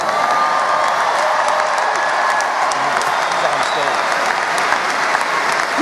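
A large crowd at a rally in Minneapolis applauds and cheers, loud dense clapping sustained throughout without a break.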